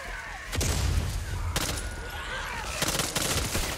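Gunfire in the Back 4 Blood video game, with dense bursts of rapid shots, sharp cracks and booming impacts coming in clusters across a busy, loud battle scene.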